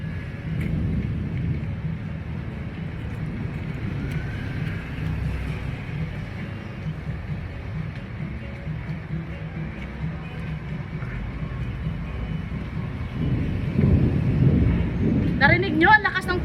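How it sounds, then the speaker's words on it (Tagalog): A low, steady rumble of thunder rolls on throughout, swelling toward the end, with some faint higher clatter near the close. "Narinig nyo ang lakas ng kulog?"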